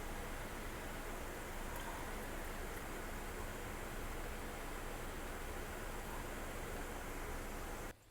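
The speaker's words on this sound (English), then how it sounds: "Look, we're having a light rain, and the cardinals are loving it." Light rain falling on a Florida butterfly garden, a faint, steady hiss that stays even throughout and cuts off abruptly at the end.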